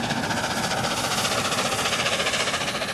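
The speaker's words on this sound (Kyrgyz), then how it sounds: "Куюн аттуу паровозу өлкөнүн түндүк тарабында иш жүргүзүүдө." A heritage steam locomotive working a preserved railway line out of Skipton in northern England gives a steady, loud, continuous rumbling chuff with no pauses or talk.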